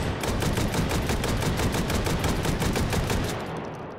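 Rapid automatic gunfire in the VR shooting game Hot Dogs, Horseshoes & Hand Grenades, a steady rattling burst of evenly spaced shots lasting nearly four seconds, loud and close, then stopping abruptly.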